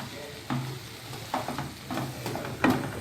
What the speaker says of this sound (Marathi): आपण टॅमॅटो टाकलंय बघा गॅस थोडासा मोठा ठेवलाय